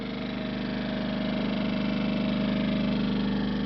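A generator runs steadily at a mine tunnel, a continuous mid-pitched engine drone with a low throbbing hum that holds even and close throughout, with no talk.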